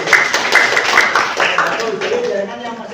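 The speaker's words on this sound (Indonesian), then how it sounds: "tepuk tangan untuk Dwi Ayu." Classroom applause in a lesson on computer networks, a short burst of close, uneven hand clapping from a group of students, mixed with talking voices throughout.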